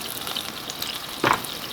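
Mushrooms with garlic and steak seasoning frying in a cast iron pan: a soft, steady sizzle with one sharp pop near the end.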